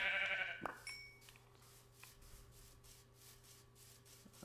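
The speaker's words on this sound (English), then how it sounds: "I'm going to kill this sheep here" A sheep in the Minecraft survival game gives a single short bleat near the start, followed by quieter game ambience with faint steady tones and no talking.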